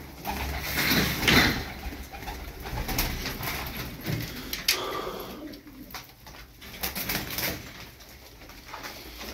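Pigeons of a Turkish flight breed coo steadily in a loft, several birds close by with soft overlapping calls and a brief rustle or door slide in the background.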